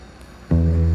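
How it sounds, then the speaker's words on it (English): A train rolls across an active railroad bridge over a barge channel, its loud, steady low rumble and tonal hum starting abruptly halfway through and holding close by to the end. "There was a train that just went by."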